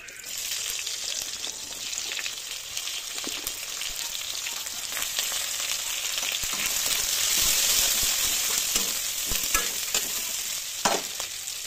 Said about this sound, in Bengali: তো এরপর আমি পেঁয়াজগুলো দিয়ে দেবো।